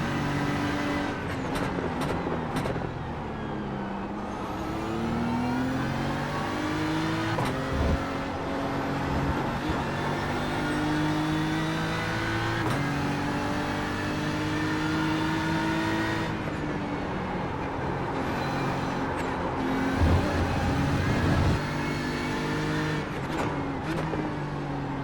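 A race car engine in the iRacing sim during an IMSA series race drones steadily and loudly throughout, its pitch rising and falling with gear changes and occasional sharp downshift blips, with no talking.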